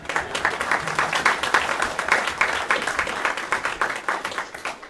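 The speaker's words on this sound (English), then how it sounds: "So I want to give a special round of applause." Audience at a faculty recital claps in a round of applause, lively uneven clapping that swells and tapers over several seconds, fairly close and without speech.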